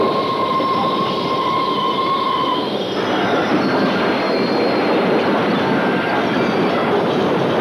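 A train rumbles past steadily with a high wheel squeal fading out partway through, leaving a dense roar of carriages rolling along the rails, heading toward a bridge collapse.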